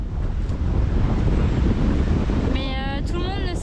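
Strong wind rushes past during a tandem paragliding flight, a loud, steady roar buffeting the microphone, with a person's voice briefly rising near the end.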